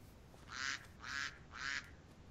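A duck in the video game Lost in the Woods quacks three times in an even rhythm, each call short and nasal, faint against a quiet background with no talk.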